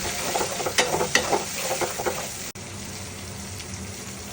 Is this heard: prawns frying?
yes